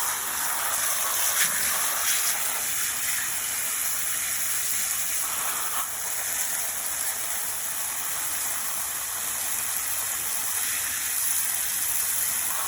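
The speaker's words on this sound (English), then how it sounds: "This water flow, it's not working." Water flowing steadily onto an old ocean or offshore life preserver under test, a continuous hissing gush like heavy spray or rain, loud and even from start to finish with no voices.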